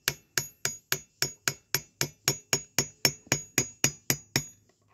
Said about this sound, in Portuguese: Tem um corte que você vai apoiar a chave de fenda e vai dando uns toquinhos de leve